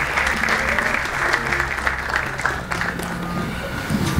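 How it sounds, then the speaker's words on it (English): An audience at an outdoor community band concert applauds for brass scholarship instructors, dense even clapping holding steady across the few seconds. "Let's also have a round of applause for their instructors"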